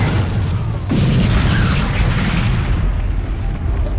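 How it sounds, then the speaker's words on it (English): A magical explosion in a fantasy radio drama, a deep, loud boom that swells suddenly and rumbles on for a few seconds before thinning out, heard alone. "a magical explosion rocks the foundation of the old Swan"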